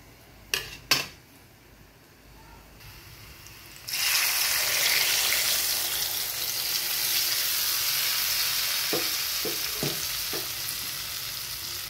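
Kadhi mixture in a pan, with a couple of sharp clinks of a utensil, then a loud steady sizzle and frying hiss that continues with a few soft stirring knocks.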